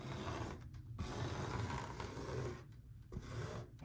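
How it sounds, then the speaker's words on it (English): A putty knife scrapes Elmer's glue across a tufted rug backing in long gritty rasping strokes, close and steady with brief pauses between passes. "Then I scrape it on with a putty knife."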